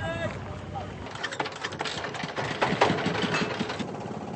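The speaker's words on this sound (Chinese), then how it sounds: "这类船配置了柴油发动机" A diesel engine drones on a large wooden ferry boat on a river in Bangladesh, a low rumble running under wind noise and scattered voices nearby.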